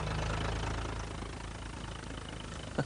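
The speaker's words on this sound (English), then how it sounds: "it's not just the noise of the tractors" Low, steady tractor engine drone at a distance while ploughing a field in Crete, faint and continuous, with a brief bump at the end.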